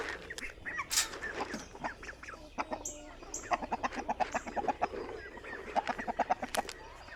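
Chicks and a rooster cluck in quick, irregular bursts outdoors at close range while being fed, with sharp peeps and clucks coming in rapid clusters.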